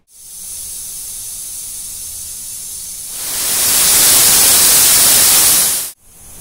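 A pressure cooker on a medium gas flame vents steam while cooking mutton: a steady hiss that swells much louder and fuller midway, holds, then cuts off sharply near the end before resuming. No voices.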